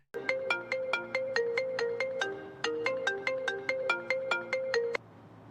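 A phone ringtone sounds for an incoming call, a bright repeating melodic pattern of chiming notes that plays twice in quick succession, loud and close, then cuts off.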